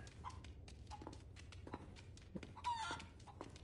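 A chicken clucks in short, scattered bursts in the Resident Evil 4 Remake game, with a louder squawk near the end. The calls sit over a low steady rumble, quiet and fairly close, with no talking.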